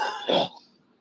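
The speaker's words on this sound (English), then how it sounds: "now it's 3 in the morning and I'm coughing" A single close, harsh cough ends in a brief throat-clearing rasp, then fades into quiet room noise.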